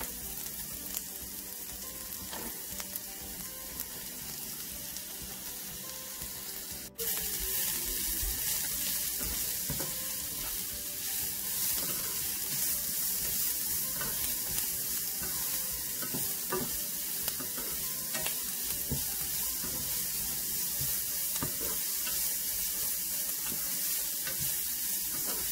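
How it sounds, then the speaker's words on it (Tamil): Onion and carrot sautéing in a pan for egg fried rice give a continuous, fairly loud sizzle that jumps a little louder partway through, with light stirring scrapes throughout and no voices. "வெங்காயம் லைட்டாக வதங்கினதோட கேரட்டை சேர்க்குறேன்."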